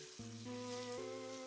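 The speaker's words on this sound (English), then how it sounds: "Oh, and now it's gonna be frying it as well." Egg frying in oil in a pan, a brief, faint sizzle with a steady crackling hiss over a low hum, close and alone.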